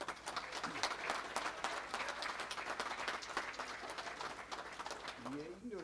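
An audience at a school district board meeting claps for students, a sustained wash of many hands at low level, with a few voices mixed in.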